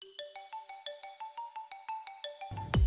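A mobile phone ringtone plays a bright, repeating electronic melody of short pulsed notes in a steady rhythm for over two seconds, then cuts off into a sudden loud thump and noise at the end.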